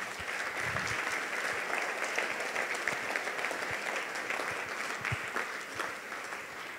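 Church congregation applauding, a dense, even wash of clapping sustained for several seconds at moderate distance, with no voices standing out.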